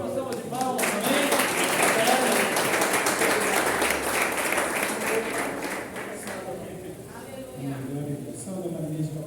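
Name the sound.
congregation applause in church service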